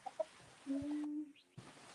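Roosters cluck and call at moderate distance outdoors, with a couple of short clucks followed by a sustained crowing-like tone, against steady background noise.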